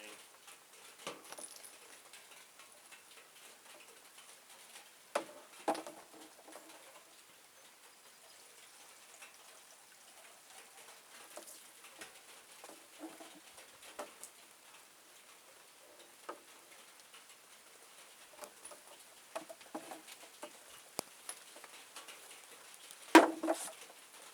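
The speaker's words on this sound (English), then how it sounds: "here comes the rain." Light rain beginning outdoors during garden work with wicking tubs, scattered soft drops and patter against surfaces, faint and sparse with a few sharper taps.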